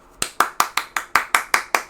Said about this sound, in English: Gotta clap it up.